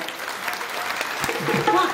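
An audience at a Home Minister event in Paranda claps for the minister: a dense burst of applause, fairly close, with voices mixed in under it.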